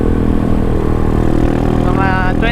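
Keeway CR152 motorcycle engine running loud and steady with mechanical clatter, a worn, noisy motor beyond valve clearance wear, droning continuously up close, with a voice speaking briefly near the end.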